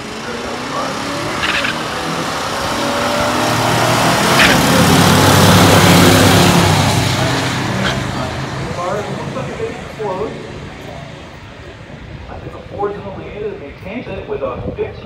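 A 1965 Ford Galaxie 500 and a 1971 Buick GS with a 350 launch down a drag strip in a pure stock race, engines swelling to a loud roar that fades as the cars pull away, with tire chirps and a voice talking over it.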